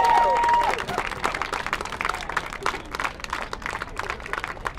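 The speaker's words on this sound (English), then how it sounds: "a big round of applause, please" An audience at a poetry performance breaks into sustained applause, dense clapping with some crowd noise, following a short musical tone at the start.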